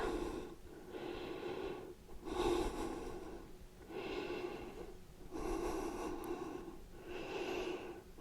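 Slow, deep breaths during yoga sun salutations, close and steady, with about five long airy inhale and exhale cycles separated by brief pauses and no talking.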